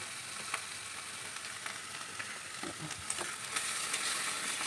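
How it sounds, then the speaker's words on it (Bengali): Spice paste and tomato puree for a fish curry fry in hot oil with a steady, close crackling sizzle that runs the whole time, with a few faint stirring clicks and no voices. "তো লাল লাল করে একটু ভেজে নেবো"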